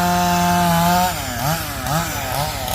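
A chainsaw topping a tree drones loudly and continuously close by, the engine pitch dipping and rising as the chain bites into the wood.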